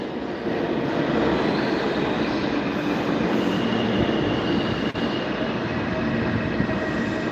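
A New York City subway train rumbles loudly and steadily through a station, a dense continuous roar of wheels and rail noise with no voices.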